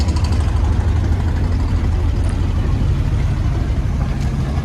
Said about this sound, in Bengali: নৌকাগুলো এখানে ব্রেক করছে